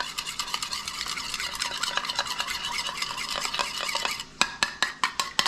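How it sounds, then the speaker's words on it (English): Spoon briskly stirring an oyster sauce and butter noodle sauce in a bowl, a steady run of close scraping clinks that ends in a few separate sharp taps against the rim. "Grab a spoon and give that a little mixy poo."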